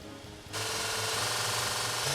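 A KKMoon mini belt sander with a 20 mm belt switches on after a brief quiet moment, then runs with a loud, steady, gritty whir and a continuous rattling hum, close and alone.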